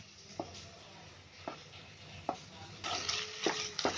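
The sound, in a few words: stirring sweet corn upma in pan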